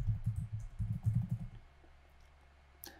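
Keys on a computer keyboard clatter in two quick, soft bursts during a Linux terminal session, followed by quiet hum and a single faint click near the end.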